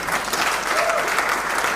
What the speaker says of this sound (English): Can you clap for my pastor?